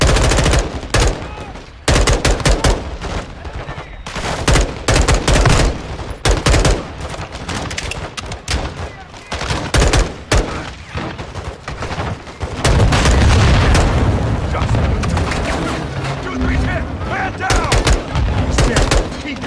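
Dense, loud bursts of automatic and single-shot gunfire from the Modern Warfare 2 video game, near and continuous throughout with booming impacts, under occasional shouted voices.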